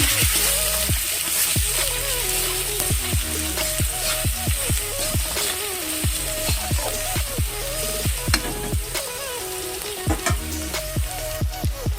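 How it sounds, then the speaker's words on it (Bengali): Spice masala with turmeric fries in a pan for a Bengali egg curry with cauliflower and potato, a steady close sizzle with stirring sounds running beneath a melodic backing track. "হলুদ গুঁড়ো দিয়ে ভালো করে কষে নেব।"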